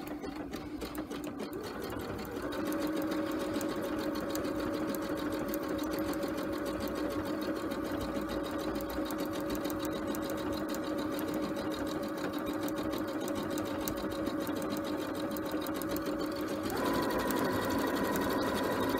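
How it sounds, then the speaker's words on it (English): A sewing machine stitches a decorative design, running as a steady, continuous mechanical whir for the whole stretch with a slight shift in pitch near the end, fairly quiet and with no talking. "then it's going to sew my design"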